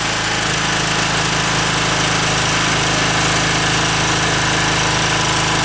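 An OKAY 2.8 kW generator with copper winding and AVR stabilisation runs under electrical load, a loud, steady engine drone with a dense buzzing roar that holds unchanged throughout.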